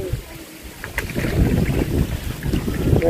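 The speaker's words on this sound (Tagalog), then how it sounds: "Lakas ng hangin." Strong wind buffets a boat out at sea, a loud continuous roar of wind noise over the microphone with churning water and engine rumble beneath.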